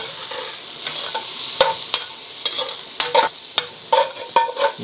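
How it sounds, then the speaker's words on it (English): Chunky peppers and sweet corn sizzling in a hot pan for chow mein, a steady frying hiss broken by repeated sharp scrapes and clatters as the vegetables are stirred, close up and without voices. "Get them in, turn the heat up, get the sizzle on."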